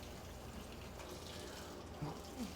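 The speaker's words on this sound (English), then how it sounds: "We're going to rinse off the garbanzo beans, also known as chickpeas." A tap runs steadily over canned garbanzo beans being rinsed in a kitchen, a soft, faint, continuous wash of water with no talking.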